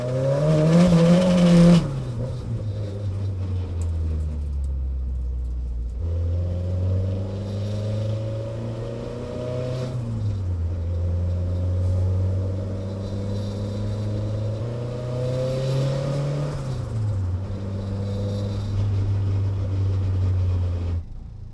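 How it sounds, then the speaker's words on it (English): A Honda S2000 fitted with an HKS muffler drives close by, its exhaust rising and falling through several loud revs and gear changes, with a steady engine drone between pulls and no talk. "That muffler sounds freaking really good. I'm glad it's more quiet now."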